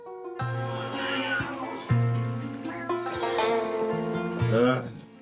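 A cat meows repeatedly with drawn-out, wailing calls over music in Luigi's Mansion 3, a loud and continuous yowling sound across the clip.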